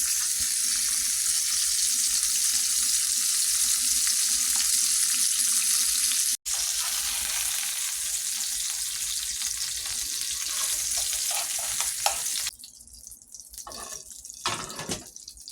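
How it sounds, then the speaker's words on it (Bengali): Bata fish coated in turmeric and salt fry in hot oil, a steady loud sizzle running for about twelve seconds with one brief break, then easing to quieter crackles near the end. "প্রথমে হলুদ এবং লবণ দিয়ে ভালোভাবে মেখে তেলে ভেজে নিচ্ছি"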